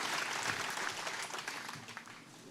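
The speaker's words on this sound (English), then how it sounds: "Please, a big round of applause" At a writers' festival session, an audience gives a round of applause: steady, fairly faint clapping from a crowd that thins out slightly over a few seconds.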